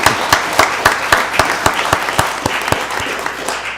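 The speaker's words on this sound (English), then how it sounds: "Let's give them a round of applause." An audience at a county board of commissioners meeting breaks into applause, a loud burst of sharp claps with a rhythmic pulse that continues throughout, fairly close and with little talk.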